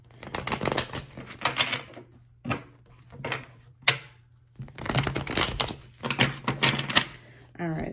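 Tarot cards being shuffled by hand during a Scorpio reading, giving rapid papery riffling and crisp flicks in several bursts with brief pauses, close and moderately loud, a faint steady hum underneath.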